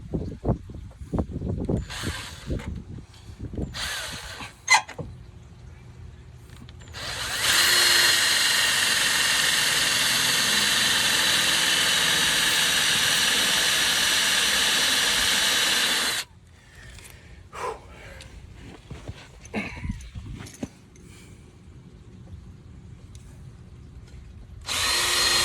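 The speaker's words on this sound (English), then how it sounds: "I'm just going to drill a pilot hole in the middle of each of those marks" Power drill punching pilot holes through the metal of a 2006 Jeep TJ bumperette, a loud steady whine lasting about nine seconds, bracketed by shorter bursts and clanks of handling before and after.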